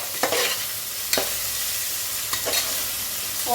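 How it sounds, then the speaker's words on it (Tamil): Tomatoes being stirred into chicken biryani masala in a hot pan, with a steady sizzle underneath and a few sharp scrapes of the spoon, near and fairly loud, no voices. "இதையும் நல்லா மிக்ஸ் பண்ணி விட்டுக்கணும்"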